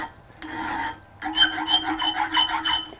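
Metal file rasping against a metal bolt spinning on a wood lathe, close and harsh, a short stroke followed by a longer burst of rhythmic scraping pulses.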